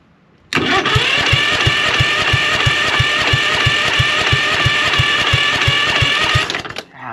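A Husqvarna CT151 lawn tractor's starter motor cranks the engine in one continuous burst of about six seconds, a fast even chugging rhythm over a loud whirring drone that ends abruptly without the engine catching.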